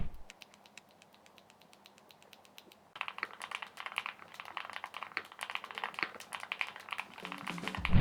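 Typing on a Galaxy mechanical keyboard: a light, rapid patter of key clicks that first sounds faint and sparse, then becomes denser and louder in steady bursts of keystrokes, close up and with no talking.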